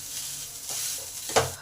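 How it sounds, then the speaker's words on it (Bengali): Potatoes, vegetables, chilli flakes and garam masala fry in a pan while being stirred, giving a soft steady sizzle broken by a sharp scrape of the utensil near the end. "এবার এই সবজিগুলোর সঙ্গে আলুটাকে ভালো করে 5 মিনিট ধরে নেড়ে পাইল করে নেব।"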